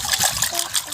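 Fresh water poured over cleaned freshwater carp for washing, a close, lively trickle and splash of liquid with small pulsing bursts throughout the brief moment.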